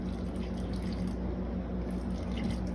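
About 397 grams of water runs steadily into a bowl for sourdough bread dough, a continuous close trickle with no talk.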